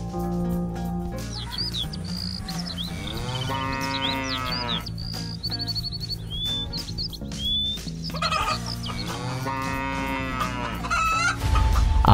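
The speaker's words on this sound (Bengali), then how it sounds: "আমাদের গোয়াল ঘরের সামনে এতগুলো মুরগি কিভাবে যে আসলো" Several chickens cluck repeatedly in front of a cattle shed, with a rooster crowing among them and steady background music underneath.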